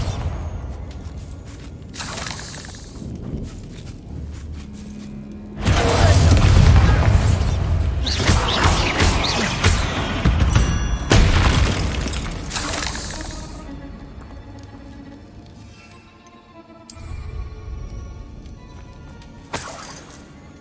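A Bombarda blasting spell detonates in Hogwarts Legacy, a loud booming explosion with shattering debris that swells suddenly and rumbles on for several seconds amid clicking game effects.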